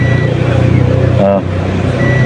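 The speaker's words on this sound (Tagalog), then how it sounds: "Tumutunog yung tester natin." A steady electronic tone from a continuity buzzer tester indicating a short while checking a 19-inch Lexing power supply with no power, under a continuous background hum, briefly interrupted by a short pause before resuming.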